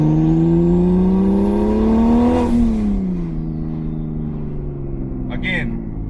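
A single-turbo N54 BMW 335i tuned to 715 wheel horsepower with a Precision 6766 turbo revs at half throttle, its loud engine note climbing steadily, peaking, then dropping back to a rumbling idle with a brief turbo whoosh near the end.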